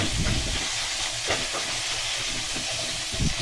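Onions frying in a pan for kinunot na pating, karoca style, with a dense, steady sizzle and a few stirring scrapes, loud and close, and no talking.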